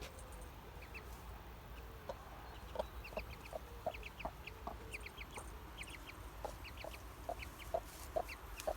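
A hen clucking while laying an egg, with repeated short clucks and rhythmic calls at moderate distance over a steady outdoor background, other poultry faintly around.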